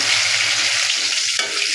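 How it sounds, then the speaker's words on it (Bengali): Vegetables fry in a pan, a loud, continuous close-up sizzle with a brief shift in tone near the end. "লাল লাল করে সবজিগুলি ভেজে নিয়েছি"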